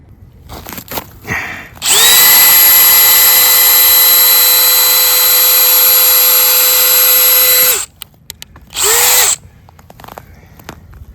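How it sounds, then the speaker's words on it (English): A power drill bores into about 3 inches of rink ice, whining steadily at high pitch for several seconds, then stops, followed by a short second burst, close and loud. "I'm going to drill down towards the deep end with a drill bit, and I want to see how deep the ice is"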